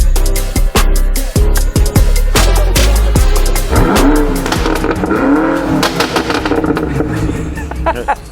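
A BMW F90 M5 with an MST intake, tuned past 700 horsepower, revs hard with sharp repeated blips, loud intake roar and a rising sweep, close and alone without talk.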